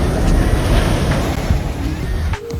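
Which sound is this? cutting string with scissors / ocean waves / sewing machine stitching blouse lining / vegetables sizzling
ocean waves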